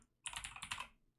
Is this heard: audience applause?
no